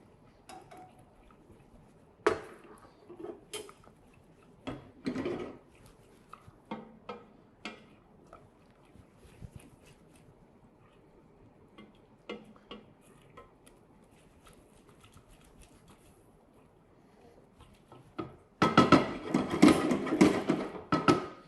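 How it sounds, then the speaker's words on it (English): Rice for arancini being stirred in a pot, with scattered clinks and scrapes of a spoon against the pot over a quiet background, building to a dense, louder burst of clattering near the end. "I'm going to keep stirring."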